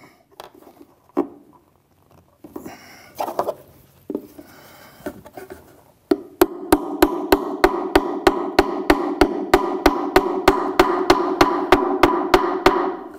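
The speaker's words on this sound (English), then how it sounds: "get your brass hammer out," A brass hammer drives a miniature hard impact plastic plug into place. A few scattered knocks and handling sounds come first, then a long, even series of sharp, ringing taps at a steady rhythm, close and clear.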